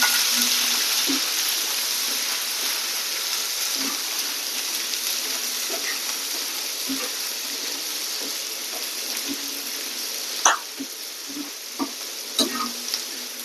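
Dried chilli, green chilli, garlic and onion fry in hot oil with a steady, loud sizzle throughout, and a few sharp clinks of a utensil come toward the end.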